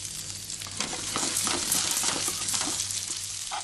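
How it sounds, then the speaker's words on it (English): Prawns frying in hot oil with browned crushed garlic in a non-stick pan give a loud, dense, continuous sizzle, with faint stirring scrapes running beneath it. "Once the garlic has begun to brown, you can add your prawns to the heat one by one."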